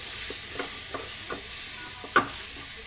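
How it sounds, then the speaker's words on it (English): Chopped tomato goes into a masala frying on a low flame for okra masala, heard as a faint steady sizzle with several light spoon scrapes and one sharper clack of utensil against the pan. "after this, we have to put our chopped tomato"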